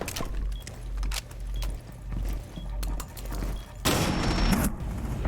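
Video game gunfire in a ranked match: a burst of rapid shots near the end, loud and dense, after quieter clattering game sounds and thuds.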